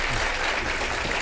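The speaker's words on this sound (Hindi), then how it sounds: "यार तुम लोग पे तालियां बनती है" A brief burst of audience clapping at a live TV comedy show, dense and fairly loud, lasting just over a second.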